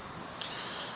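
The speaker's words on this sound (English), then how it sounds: "You can hear the cicadas going on." Cicadas buzz on a hot, humid city day, a steady high-pitched drone that runs unbroken throughout.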